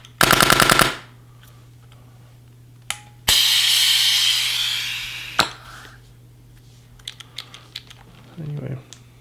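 A Dye DSR paintball marker fires a rapid burst of shots close up, followed by a long hissing rush of air and a few scattered clicks and handling knocks.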